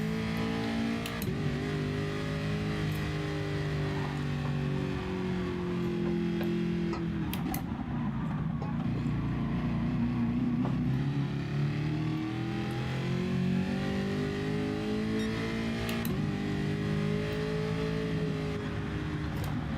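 A race car engine in Gran Turismo Sport on PS4 Pro drives on steadily, its revs rising and falling with gear shifts and accelerations, loud and continuous with no talking.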